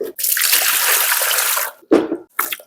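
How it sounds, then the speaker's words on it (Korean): Water pours in a steady, splashing stream into a traditional Korean rice wine starter mash, running loud and close for nearly two seconds before stopping, then followed by a couple of shorter splashy pours. "남은 물 다 넣어줄게요"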